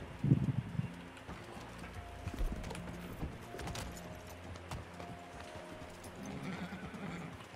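In the video game Red Dead Online, horses clip-clop and gallop with rhythmic hoofbeats, joined by a loud neigh near the start and another whinny later, moderately near and without talk.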